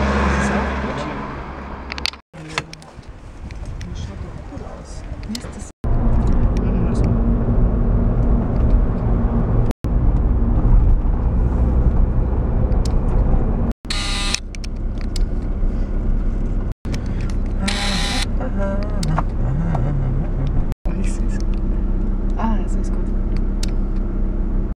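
Steady loud car engine and road rumble at motorway speed around 145 km/h, heard from inside the cabin on a coastal drive in Croatia, with brief dropouts and occasional bursts of higher noise.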